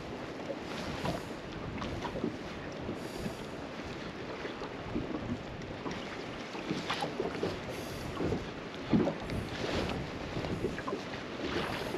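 Strong wind buffets the microphone on the Pungo River during a speckled trout fishing trip from a small boat: a dense, continuous roar with gusty surges that never lets up, with no speech.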